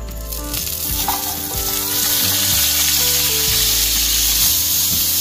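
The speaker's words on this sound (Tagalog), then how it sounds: "Igisa naman po natin yung ating bawang, sibuyas, tsaka yung sili." Garlic, onion and chili sautéing in a pan produce a loud, continuous crackling sizzle, with occasional soft scraping from stirring underneath.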